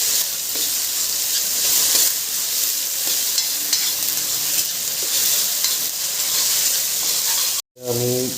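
Onions frying in a pan with ginger-garlic paste, stirred continuously for a pork and black gram dal dish: a steady, loud sizzle with scraping strokes throughout, cut by a brief silent gap near the end before the stirring resumes.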